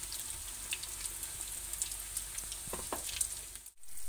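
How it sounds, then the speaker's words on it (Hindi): Cabbage snacks shallow-frying in a pan of oil, a soft continuous sizzle with faint crackles and pops, fairly quiet and steady, then cut off abruptly near the end. "तो देखिए फ्रेंड्स, कैसे ये फ्राई हो रहे हैं"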